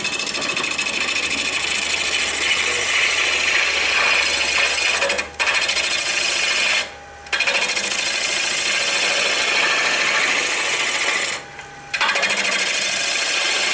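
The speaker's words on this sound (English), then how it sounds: "I'm going to make several of my cuts from the headstock towards the tailstock." A wood lathe turns a water dipper while a cutting tool works along it from headstock toward tailstock. It gives a loud, continuous rough shearing hiss, broken by three short pauses, with no talk.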